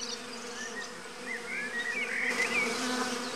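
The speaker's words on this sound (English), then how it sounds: "There's nothing odd to our eyes about swarming bees." Bees buzz in a dense, continuous swarm hum, fairly close, with individual insects droning past over a low background.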